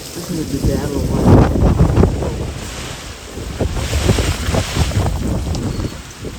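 Strong gusting wind after a severe thunderstorm buffets the microphone in loud, rough low roars that rise and fall, with a voice faintly under it.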